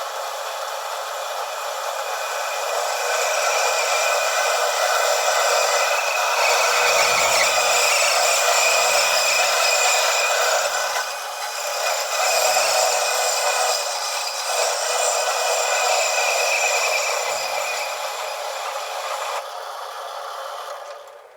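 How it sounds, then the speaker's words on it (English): A bandsaw cuts through an FMF Turbine Core 2 motorcycle muffler with a continuous loud, high-pitched whine and grind that holds steady for about twenty seconds before easing off. "let's take this over to the bandsaw and see if we can cut this straight."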